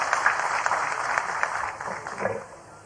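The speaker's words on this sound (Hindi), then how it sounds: "एक बार जोरदार तालियां हो जाए सभी की तरफ से।" Audience applause at an outdoor political event marking the ground-breaking ceremony of an ACC Cement project: a sustained crowd clapping that fades away over its last second.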